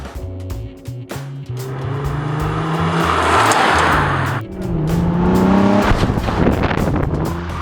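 A Nissan 350Z sports car with an aftermarket intake revs and roars up and down close by in a parking lot, loud and continuous, with a brief dip midway.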